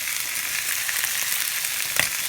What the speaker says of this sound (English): Place off all the lamb cutlets into the pan, and it's nicely frying and sizzling away.